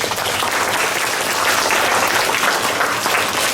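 An audience at a school declamation competition bursts into loud, sustained applause after a speech, dense close clapping from many hands that keeps an even level throughout.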